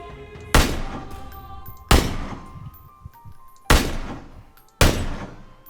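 Gunfire in PUBG aimed at a car: four loud, sharp shots spaced about a second or more apart, each with a booming decaying tail, with no talk over them.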